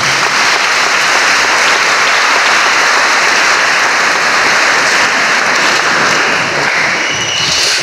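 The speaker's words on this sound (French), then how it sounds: "On peut applaudir pour nos enfants." Congregation applauding for a children's group at an Easter Mass in a parish church, a dense, continuous roar of clapping from many people, loud and unbroken throughout, without talk.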